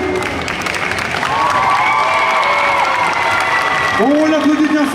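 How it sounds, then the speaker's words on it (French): A convention audience at a cosplay contest claps and cheers for a contestant, a dense crowd wash with voices and shouts rising through it. "On l'applaudit bien fort, s'il vous plaît."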